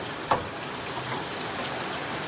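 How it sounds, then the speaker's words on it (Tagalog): Heavy rain falls steadily in a broad, even wash of sound close by, with one brief sharper splash early on and no talking. "Ang lakas ng ulan dito. Ang lakas ng ulan."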